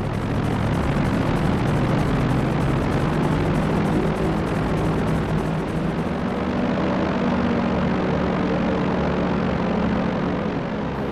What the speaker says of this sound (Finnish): siipikoneeni ei näyttänyt saavan tarpeeksi kierroksia moottoriinsa